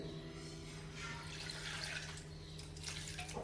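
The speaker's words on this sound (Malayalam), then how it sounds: "അപ്പൊ നമുക്ക് കുറച്ച് അത് യോജിപ്പാക്കാൻ വേണ്ടിട്ട് കുറച്ച് വെള്ളം കൂടി ഒഴിക്കുന്നുണ്ട്" Water pours into a pot of cooked tapioca and sardines, a soft, steady trickling splash heard alone and fairly quiet.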